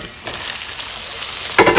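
Crushed ginger and garlic with chopped onions frying in hot coconut oil make a loud, steady sizzle, with a few brief bursts of stirring and a sharper rush of crackle at the end.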